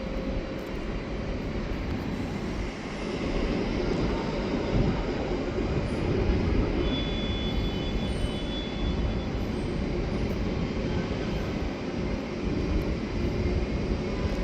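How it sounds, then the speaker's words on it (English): An Intercity train departs Lisbon Oriente station, a broad, steady rumble and rolling noise that swells slightly and holds evenly throughout, with faint high squeals over the continuous drone. "Off departs the Intercity service."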